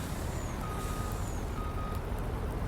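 A truck in Farming Simulator 19 backs up with repeated high reversing beeps sounding over a loud, steady engine rumble, with no voices.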